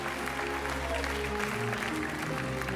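A studio audience at a French TV game show breaks into sustained applause, a dense even wash of clapping over low music.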